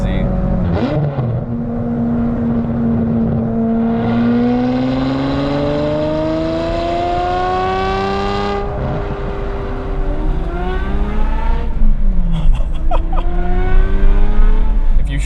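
An Aston Martin DB7 Vantage with a V12 and six-speed manual revs hard through the gears, rising and falling in long sweeps with sharp shifts between them, heard loud from inside the cabin and growing rougher near the end.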